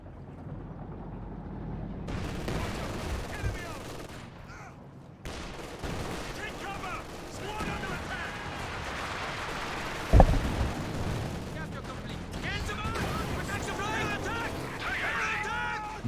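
Gunfire from a Stuka strafing run rakes the ground in Company of Heroes 2, a battle game, with dense bursts and a sharp impact among continuous combat noise, while a commentator talks throughout.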